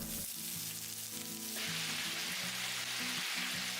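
Radish cubes dropped into a pan over medium-low heat, a loud dense sizzle that swells partway through and keeps frying steadily, close and without talk.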